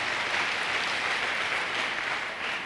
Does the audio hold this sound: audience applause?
yes